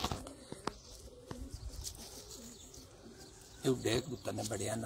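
A pigeon from a Sialkot rooftop flock lands nearby, with soft coos and brief wing flutters heard under ambient noise, and someone talks loudly toward the end.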